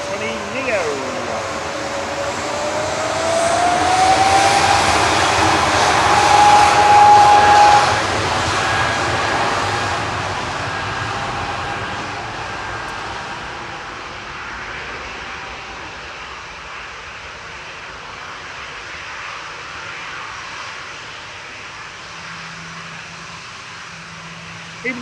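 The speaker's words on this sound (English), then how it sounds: "Lufthansa departing now to Frankfurt, flight 947." Lufthansa Airbus A320neo departing for Frankfurt, a loud rushing jet roar early on with a rising whine, fading gradually into a distant rumble.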